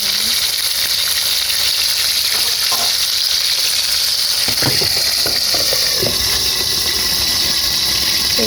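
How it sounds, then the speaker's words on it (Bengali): Spices sizzle in hot oil in a wok for beef curry, a steady loud frying hiss throughout with occasional sharper crackles and stirring clatters, no talking. "কড়াই বসাই দিয়েছি চুলায় তেল গরম হয়ে গেছে এখন হচ্ছে মশলা দিয়ে দিলাম"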